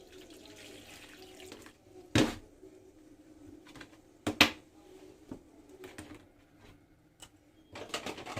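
Water is poured into flour for bhajia batter in a quiet kitchen, with soft trickling broken by a few sharp clinks and knocks of utensils and containers.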